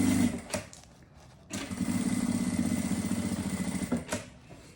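A sewing machine stitches the side seam of a fabric pouch, with a short burst of motor hum at the start, a pause, then a steady, close, whirring run of stitching before it stops and a quick final burst.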